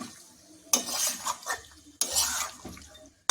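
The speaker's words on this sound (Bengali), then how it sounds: "বেশ কিছুক্ষণ ভালো করে কষিয়ে নেব" Chicken curry being stirred in a pan, with two loud scraping, clattering bursts of the utensil against the metal over a quieter sizzle, heard close with no talk.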